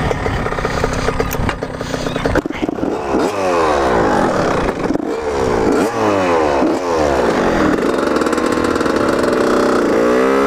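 A Honda CR125 two-stroke dirt bike engine runs loud and close, first idling and then revving up and down in repeated sweeping bursts, with brief talk underneath.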